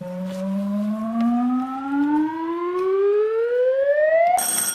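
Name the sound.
quiz buzzer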